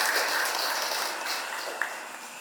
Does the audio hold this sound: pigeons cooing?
no